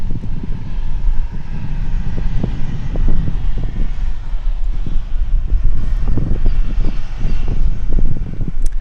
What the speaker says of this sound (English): And that is getting very windy.